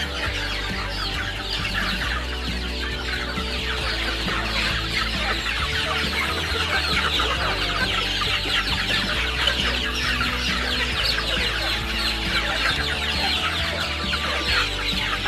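Many chickens nearly ready for harvest cluck and chatter together continuously inside a poultry house, a dense steady din with no speech.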